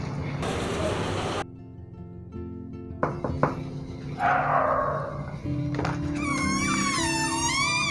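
A dog reacts to a visitor arriving at the gate of a home, with bursts of barking and thumps amid household noise, fading into a steady mix with high warbling tones near the end.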